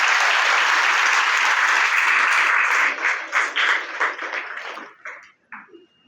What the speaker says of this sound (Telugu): వాళ్ళందరికీ ఒక పెద్ద క్లాప్స్ కొట్టి వాళ్ళని అభినందిస్తాం